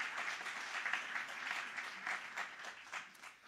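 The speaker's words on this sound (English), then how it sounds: "Please again give a great round of applause to everybody on our fantastic match day" At a medical school Match Day, a crowd gives a round of faint, distant clapping for the Match Day team that rises and falls slightly across its few seconds.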